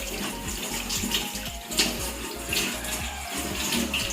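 Water pouring and splashing steadily while a patient is rinsed clean during a nursing practice wash, a close, continuous running-water sound with small rhythmic splashes.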